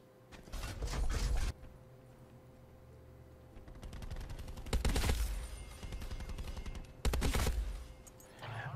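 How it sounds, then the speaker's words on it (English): Weapon gunfire in The Division 2 video game: three loud bursts of rapid automatic fire, each about a second long, spaced a few seconds apart over a steady low background hum with mechanical clicks in between. "Listen to how the weapons sound."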